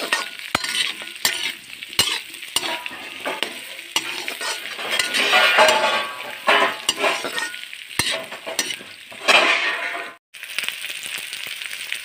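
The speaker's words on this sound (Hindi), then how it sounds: "आलू को हम अच्छी तरह से तलेंगे।" Small whole potatoes frying and being stirred in a pan, a steady close sizzle broken by repeated sharp clinks of a spoon against the metal, with a brief drop to near silence near the end.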